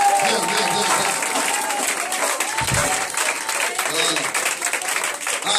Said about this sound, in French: est-ce que l'on peut acclamer Jésus?